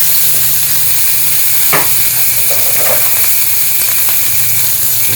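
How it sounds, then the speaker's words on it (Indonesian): Chicken fries in sesame oil in a hot pan for Korean kimchi fried rice, a loud, steady hissing sizzle close up, with a few scraping stirs of a utensil and no speech. "Kita masukkan ayam, kemudian kita goreng-goreng mulai"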